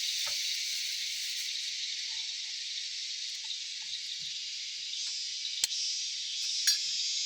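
Eggs frying in a pan at a rural Thai farm camp give a steady, fairly loud sizzle that runs throughout, with a few sharp pops and crackles near the end.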